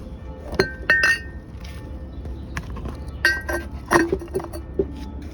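Panes of greenhouse glass clink and chink sharply as they are handled, giving scattered bright taps and rattles over a low background hum.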